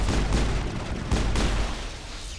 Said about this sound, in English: We're gonna carefully move forward. We're gonna take a few shots at a time.